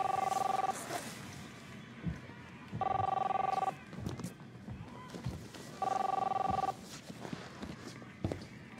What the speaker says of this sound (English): Chris, answer the phone, please.